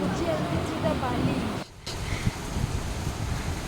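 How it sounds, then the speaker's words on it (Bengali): Wind gusting through a rainy, overcast day, a steady close broadband rush that drops out for a moment near the middle, then resumes just as strongly. "দেখো বৃষ্টি পড়ছে, হাওয়া দিচ্ছে"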